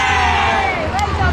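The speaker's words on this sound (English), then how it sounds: "Right, 1, 2, 3, give a big cheer." A group of boys lets out a big cheer for a team photo, a loud, dense burst of shouting voices from a crowd standing close together that fills the whole moment.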